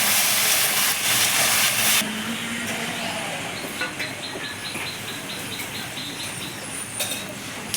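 Spice paste for chilli prawns hits a hot pan with a loud, close sizzle for about two seconds, then settles into a quieter steady hiss with faint crackles.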